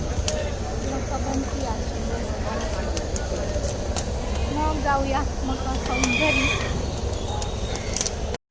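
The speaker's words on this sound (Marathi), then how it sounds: "तिकडं घोडा ओरडतोय" A horse whinnies a few times at mid-distance over a busy background rumble, with scattered clicks and a voice talking.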